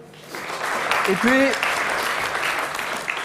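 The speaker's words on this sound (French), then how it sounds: "on peut l'applaudir" Audience at an IT awards evening applauding a guest from La Poste group, steady clapping throughout with a short vocal cheer or whoop rising briefly over it.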